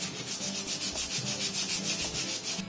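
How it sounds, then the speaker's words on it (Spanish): Sandpaper rubs back and forth over a wooden fruit crate in quick, even rhythmic strokes, close and clear with no talk. "vamos a lijarlo muy bien para quitarle las astillas"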